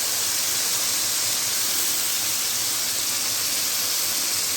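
Mutton dropped into a pot of fried onions sizzles loudly and continuously, a dense, even hiss that holds steady throughout.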